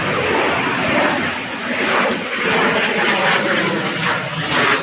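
A Longitude business jet roars loudly during its takeoff roll and rotation at Louisville's SDF airport, a sustained engine rush that swells and dips without talking.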